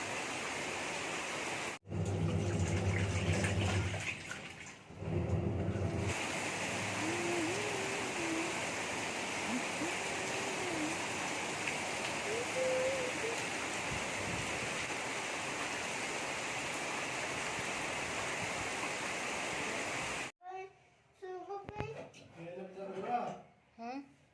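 Heavy rain pours down in a loud, unbroken roar that stays steady for most of the stretch before cutting off, after which a voice is heard speaking.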